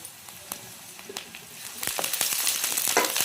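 Curry leaves, garlic paste and chillies frying in hot oil, with a steady sizzle that swells into a loud, dense crackling hiss in the second half, broken by sharp pops and spatters.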